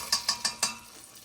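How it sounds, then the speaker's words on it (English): A utensil stirs turmeric into chicken in a frying pan, making four quick, evenly spaced scraping strokes, close and moderately loud, then falling quiet; nobody speaks. "I'm going to stir that up."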